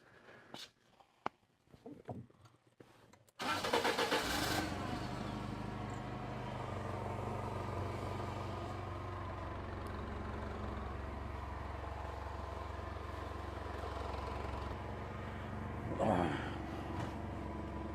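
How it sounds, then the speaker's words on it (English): A forklift engine catches after some scattered clatter, then settles into a steady, fairly loud idle that runs on without a break, rising briefly near the end. "Well, so far I see a forklift, which I can move, hopefully."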